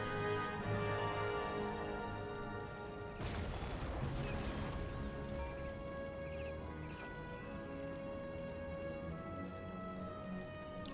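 In an Empire: Total War battle, a single cannon boom with a brief crackling tail bursts out a few seconds in. It sits faintly under steady sustained music, with no further shots standing out.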